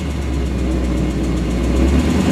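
A 1965 AMC Rambler Marlin with a 327 engine and single exhaust idles steadily nearby, a deep continuous rumble with a slight rise near the end, no voices.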